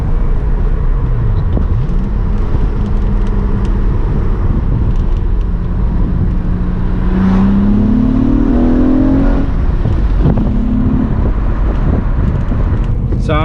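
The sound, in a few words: Acura TL SH-AWD with Borla Pro XS mufflers downshifting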